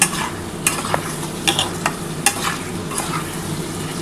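Spice masala being stir-fried with a splash of water in a pan for mutton keema bora curry with potato, a steady sizzle broken by several sharp spoon scrapes and clinks against the pan, close and alone.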